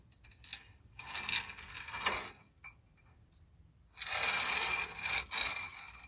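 A 1977 Trans Am wheel bearing being spun while a wrench tightens it down: quiet, close mechanical clicking and ratcheting in bursts, with a gap of near-silence in the middle.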